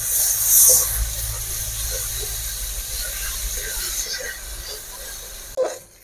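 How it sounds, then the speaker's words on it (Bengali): Ginger-garlic-green chili paste and chopped tomatoes frying in a pan for a pangas fish curry, with a continuous loud hissing sizzle close by and a short utensil clatter near the end. "দেখো মশলাটা আমি কষাচ্ছি।"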